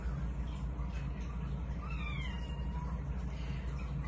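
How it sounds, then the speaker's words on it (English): A young kitten gives a thin, wavering meow over a steady low background hum, fairly faint and with no one speaking. "my kitten is crying because I woke him up trying to get his shirt on"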